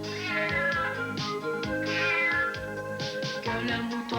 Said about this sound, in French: que le chat miaule comme ça